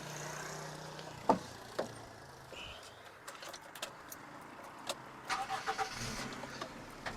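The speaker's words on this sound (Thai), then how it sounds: "รถสตาร์ททีเดียวติดนะครับ" A Honda City Type Z car engine cranks and catches with a short burst, then settles into a quiet, steady idle. A faint jingle of keys comes near the start, and no one speaks.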